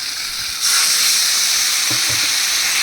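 Water hits hot oil seasoned with asafoetida and erupts into a loud, sustained hiss that stays intense and even, then cuts off abruptly. A couple of low knocks sound partway through, and no one speaks.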